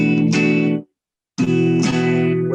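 Electric guitar played through a chorus effect, two sustained strummed chords with a shimmering, wavering tone, separated by a short silent gap, loud and close with no talking.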